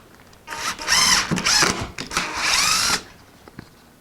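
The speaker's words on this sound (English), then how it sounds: "Let's see if we can get a hole here." Power drill boring a hole for a guitar side bending machine, several loud whirring bursts with brief pauses over about two and a half seconds, then quiet.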